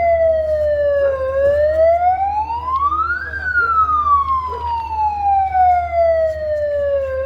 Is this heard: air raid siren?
yes